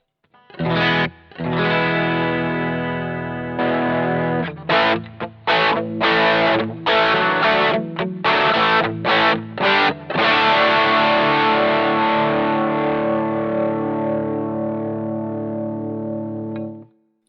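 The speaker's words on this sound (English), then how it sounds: "We can have a listen to the match drive being boosted by the Tube Screamer" Boss GT-1 guitar patch with its drive boosted by a Tube Screamer overdrive: loud, distorted electric guitar chords, first in choppy stabs with sharp gaps, then a long sustained chord ringing out to the end, with no talking.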